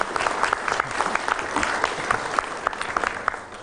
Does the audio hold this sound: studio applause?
yes